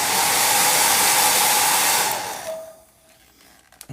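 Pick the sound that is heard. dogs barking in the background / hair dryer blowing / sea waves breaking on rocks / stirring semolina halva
hair dryer blowing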